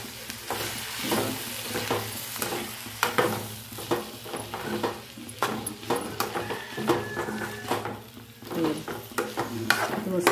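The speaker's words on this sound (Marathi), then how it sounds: "भाजीला मी परतून घेणार आहे एकसारखं." Drumstick leaves are stir-fried in a pan, with a spatula scraping and tossing them in an irregular rhythm over a soft, steady sizzle.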